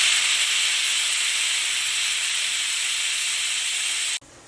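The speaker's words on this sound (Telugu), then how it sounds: "ఒకసారి 6-7 విజిల్స్ రానిద్దాం." Pressure cooker holding dal with tomato and a drop of oil, venting steam as a loud, continuous close hiss for about four seconds before it cuts off abruptly.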